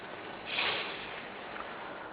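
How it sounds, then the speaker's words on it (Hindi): Heavy rain falling in Chamoli, Uttarakhand, makes a steady, dense hiss throughout, swelling slightly louder for a moment early on, with no voices. "चमोली में बीते 2 दिनों से लगातार बारिश हो रही है।"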